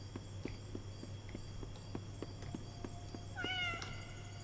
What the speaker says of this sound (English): Oh, hello. It's a cat.